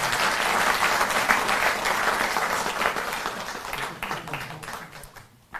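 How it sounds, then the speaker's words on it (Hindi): A crowd at a farmers' gathering breaks into loud, sustained clapping that rolls on evenly, then thins and fades toward the end. "एक बार जोरदार ताली बजती रहें"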